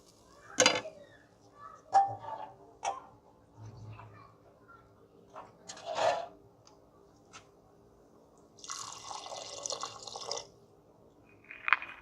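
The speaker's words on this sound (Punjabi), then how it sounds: "ਅਸੀਂ ਸੇਵੀਆਂ ਦੇ ਵਿੱਚ ਪਾਣੀ ਪਾ ਦਿੱਤਾ" Water is poured into pan-fried savoury vermicelli coated in spices, producing soft splashing and gurgling pours with scattered clinks and drips. The sounds are fairly quiet and close, and no one speaks over them.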